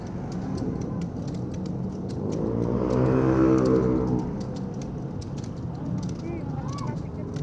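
Heavy road traffic on a Pangasinan road, a passing vehicle swelling close and loud in the middle before fading, with engine rumble and a steady traffic din throughout.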